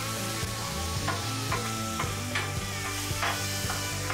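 Bacon, onions and ground beef fry on a flat top griddle, a loud continuous sizzle with repeated scraping and stirring strokes of a metal spatula, no voices.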